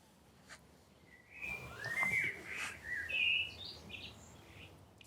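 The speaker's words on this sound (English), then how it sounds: "That's a blackbird we can hear in the background." A blackbird sings in an English garden in May, its clear fluting phrases coming in short bursts over quiet outdoor background, moderately distant and alone without voices.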